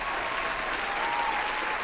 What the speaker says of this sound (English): Here is your round of applause.